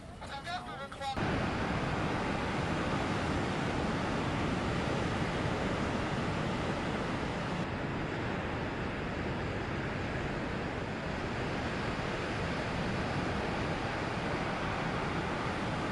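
Large ocean waves in the Bay of Biscay roar as a dense, continuous wash of surf and wind buffeting, loud and unbroken after a brief opening moment.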